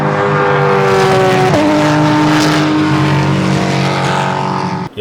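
A Chevrolet C7 Corvette race car laps a circuit, its engine roaring loud and close at high revs with a steady tone and a sharp gear shift partway through, before a brief dip at the end.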